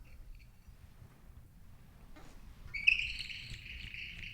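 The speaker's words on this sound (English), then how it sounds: "This is like a bird call whirly." A whirly bird-call toy instrument gives a short chirping burst, then a sustained high warbling tweet near the end, fairly close over a low background rumble.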